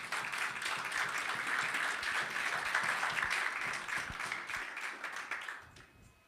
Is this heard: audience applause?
yes